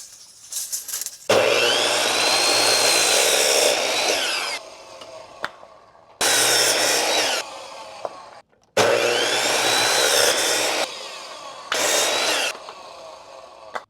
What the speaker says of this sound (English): So now that we have our top and bottom rails cut